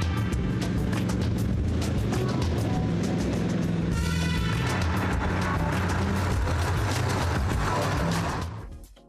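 A Studebaker Avanti with a 4.7 liter 240 horsepower V8 drives along steadily, a loud, continuous engine roar with road and wind rush throughout and no talk, fading out at the very end.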